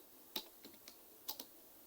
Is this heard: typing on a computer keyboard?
yes